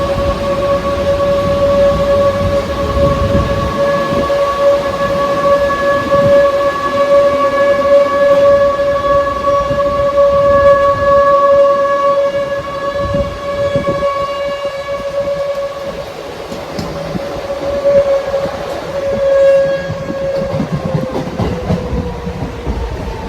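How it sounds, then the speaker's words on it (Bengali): A Howrah–Bardhaman local train pulls out of Bally station on the main line, with a loud, steady rumble of wheels and carriages under a long, sustained horn-like tone that fades and returns. "ট্রেন ছেড়ে দিল বালি স্টেশন থেকে।"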